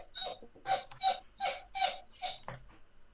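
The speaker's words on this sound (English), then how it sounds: "Somebody's dog needs to go outside." A dog whimpers and whines in the background in about five rising, evenly spaced bursts, fairly faint, with no talking over it.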